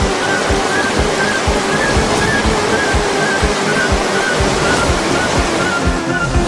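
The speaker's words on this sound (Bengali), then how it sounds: "ভুবন জেঠু তো গাছে জল দিয়েই যাচ্ছে দিয়েই যাচ্ছে দিয়েই যাচ্ছে" Water gushing and splashing steadily from a cartoon garden watering that floods the area, a loud continuous rushing wash with no pauses and no voices.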